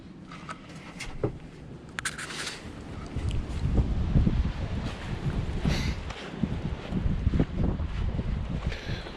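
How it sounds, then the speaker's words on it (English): Gusty wind buffets the outside of a 2008 Sprinter 144 low-roof van, with a steady blustery rumble and loose items rustling and knocking around nearby, and no one speaking. "And it's windy, so everything's getting blown around."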